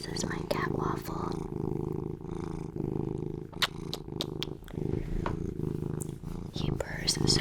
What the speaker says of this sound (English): He purrs so loud